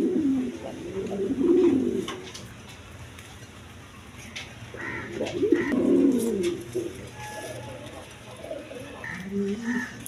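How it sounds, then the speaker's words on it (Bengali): A pair of blue shorting pigeons, both hens, coo in low repeated bursts at fairly close range, with quieter pauses between calls and no talking over them. "এখানে এক পেয়ার শার্টিং কবুতর আছে, ব্লু শার্টিং, দুটোটাই মাদি কবুতর"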